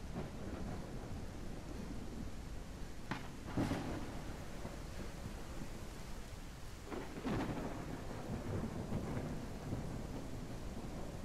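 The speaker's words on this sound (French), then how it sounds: "Oh l'orage!" Video game thunderstorm with steady rain hiss throughout and two loud thunder cracks rumbling out, one early and one midway, with no voices.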